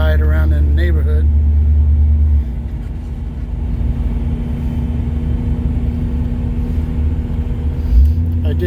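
A 1967 Cadillac, freshly back from major engine work, cruises through a neighborhood with a steady, close, low engine rumble. It is heavier for the first two seconds, then evens out, with a brief surge near the end.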